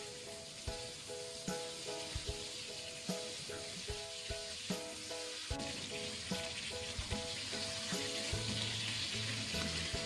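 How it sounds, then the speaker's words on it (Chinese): Shrimp fry in oil in a pan, a faint continuous sizzle and hiss with scattered small pops and light clicks of turning, steady throughout with a tonal hum in the background. "煎到一面变色了以后，翻过来再煎另一面"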